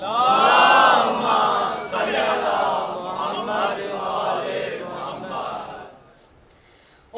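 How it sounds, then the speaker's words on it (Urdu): A large crowd loudly recites salawat together in unison, a sustained swelling wave of voices that fades out near the end. "جتنا بڑا نام مرتضیٰ ہے اتنی بلند بآواز بلند سلوات پڑھے گا"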